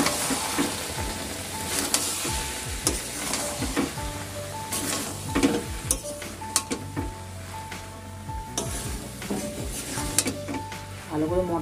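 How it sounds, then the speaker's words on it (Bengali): Boiled peas and potatoes fry with spices in a pan, a steady sizzle broken by repeated scrapes and clinks of a spatula stirring against the pan, close and moderately loud. "ভালো করে মটরটাকে আর আলুটাকে একটু মশলার সাথে কষিয়ে নেবো, তারপর দিয়ে দেবো জল।"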